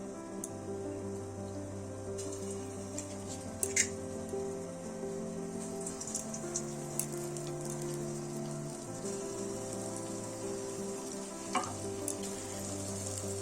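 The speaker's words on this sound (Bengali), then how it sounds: "এবারে আমি বড়াগুলো ভাজবো" Urad dal fritters frying in hot oil give a steady, close sizzle with bubbling crackle throughout and occasional sharper pops as pieces drop in, with no talking.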